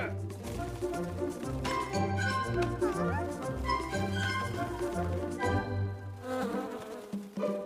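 A cartoonish bee buzzes steadily over bouncy background music, with voices talking now and then.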